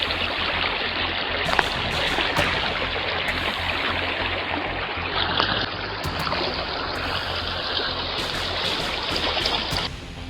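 A swift, rushing river roars loudly and continuously at close range while people cross it in a remote area, with intermittent splashes and hissing bursts of water over the steady flow.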